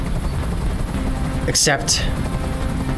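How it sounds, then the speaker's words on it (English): A helicopter hovers in Detroit: Become Human, its rotor throbbing steadily and loudly throughout while a brief spoken word cuts in near the middle. "I can't stand that noise anymore. Tell that helicopter to get out of here."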